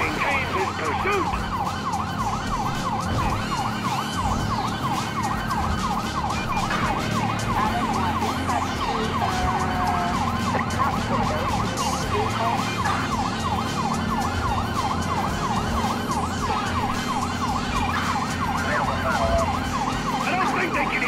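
Police sirens wail continuously in Grand Theft Auto V during a pursuit into a tunnel, over rumbling engine and road noise, with a dense mix of whooping tones running throughout.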